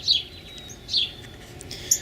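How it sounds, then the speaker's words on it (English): Three sharp, high chirps from a female northern cardinal ring out at steady intervals over a faint outdoor garden hiss. "I scared off our mama cardinal. Now she's chirping at me."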